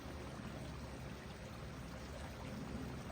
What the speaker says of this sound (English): we have our beautiful waterfall you can hear in the background